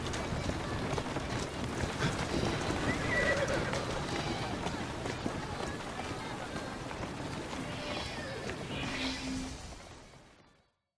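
Hooves clop steadily from a horse in Assassin's Creed Syndicate, with faint whinnies rising twice over a dense, even background that fades out at the end.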